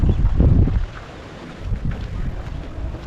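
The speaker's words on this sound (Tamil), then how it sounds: "போகிற வழியெல்லாம் பார்த்தீங்கன்னா பயங்கரமாக காற்றடிக்குது" Strong wind gusts buffet the microphone on a mountain trail in the Thoppasamymalai forest reserve, a heavy low rumble that surges, eases, then builds again.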